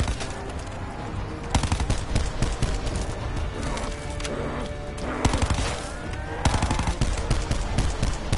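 Bursts of automatic gunfire and single shots in the Blood of the Dead zombies video game crack loudly and repeatedly, with short pauses between volleys over a busy game soundscape.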